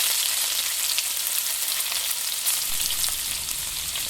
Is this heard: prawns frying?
yes